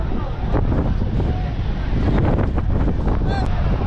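Strong wind at Digha sea beach buffets the microphone with a loud, continuous roar, and the sea and distant crowd murmur faintly beneath it.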